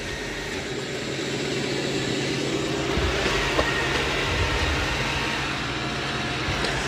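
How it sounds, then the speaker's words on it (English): A Dreame L10S robot vacuum cleans the floor with a steady, loud broadband whir of motor and suction. The sound is close and continuous, with small bumps and rattles as it moves, and no one talks. "It's going to do the perimeter of the room first. So it's doing a really good job of vacuuming."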